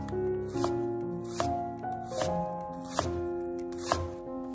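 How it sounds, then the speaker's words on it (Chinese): A knife cuts a purple onion into thin slices and small dice on a cutting board, giving a handful of distinct, close thuds spaced about a second apart amid soft rustling, with no voices. "先将洋葱对半切开，然后再改刀切成薄片"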